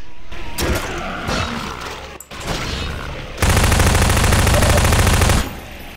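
Half-Life 2 co-op gunfire against zombies: scattered shots and clatter, then a loud, close, sustained burst of rapid automatic fire lasting about two seconds before cutting off.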